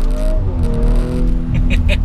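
A deep, steady exhaust rumble from a tuned Audi RS5 engine, droning continuously and fairly loud, with a low burbling growl throughout.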